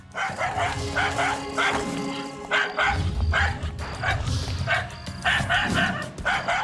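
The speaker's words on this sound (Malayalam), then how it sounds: "ഇതെന്താ ഡോഗ് ഇങ്ങനെ കുരയ്ക്കുന്നേ?" A cartoon dog in the animated series Shiva barks and yips in repeated sharp bursts, loud and close, with voices speaking around it and a busy animated soundtrack underneath.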